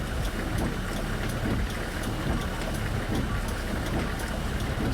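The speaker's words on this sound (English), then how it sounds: "This does sound like a clapped out car engine" A minibus engine in the Fernbus driving game drones loudly and without a break, a rough, rattly clapped-out racket with no voices over it.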